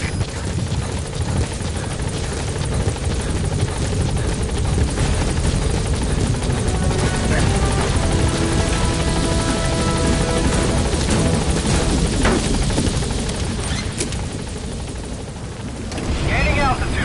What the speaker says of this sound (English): Exfiltrate out of the hot zone by chopper or on land.